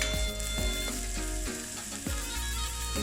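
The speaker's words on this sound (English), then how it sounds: "Keep stirring till the onions wilt." Chopped red onion, one large, sizzles steadily in a hot pan while a utensil stirs and scrapes it in regular strokes, close and fairly loud with no talking.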